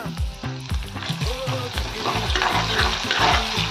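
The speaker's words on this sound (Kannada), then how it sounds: "ಈರುಳ್ಳಿ ಹಾಕ್ಕೊತಾ ಇದ್ದೀನಿ" Onions with curry leaves and garlic fry in hot oil in a pan, giving a steady, close sizzle broken by repeated stirring and scraping sounds, with no speech.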